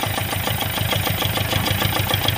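A rewired roller coaster ride's motor running steadily, a loud rhythmic low chugging pulse repeating evenly like an idling engine, with no voices.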